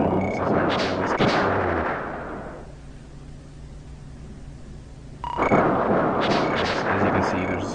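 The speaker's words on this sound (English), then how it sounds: "As you can see, there's gunfights." In Flashback: The Quest for Identity on SNES, sharp gunfight shots come in loud clusters. A quiet lull sits between the opening burst and the closing burst.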